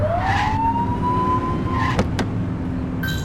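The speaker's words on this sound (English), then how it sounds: "Get on their tail and flip the siren" Police car siren in the video game The Precinct, a rising wail that climbs and holds over loud road and engine rumble, with brief sharp clicks near the end.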